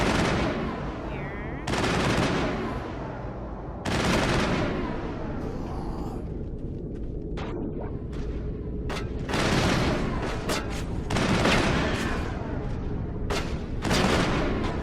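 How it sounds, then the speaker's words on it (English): Bursts of assault rifle fire in the shooter Mass Effect, loud and close. Several long sustained volleys are separated by short gaps, with sharper single cracks and in-game chatter in between. "this assault rifle"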